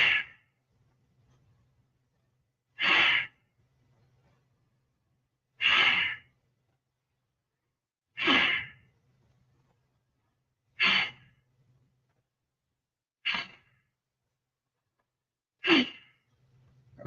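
Slow, deep exhalations from a seated breathing exercise, seven evenly spaced breaths out about every two and a half seconds, close and fairly soft with quiet gaps between them and no talk.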